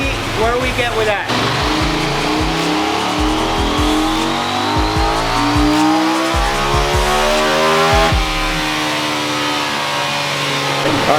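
KTM Duke 790 motorcycle with K&N filter, PCV and custom map on a dyno, engine roaring loudly and sweeping up through the revs in long rising pulls with gear-like steps, close and continuous.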